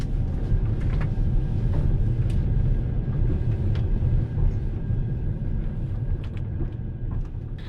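Steady low rumble of a passenger train rolling through the night on the Samara to Astana route, a continuous loud drone with faint higher clatter, no voices.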